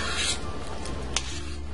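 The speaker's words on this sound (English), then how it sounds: "Let me give this a stir." A spoon stirs beef bourguignon in a regular cooking pot, giving a close, soft scraping and rubbing against the pot with a small knock near the end.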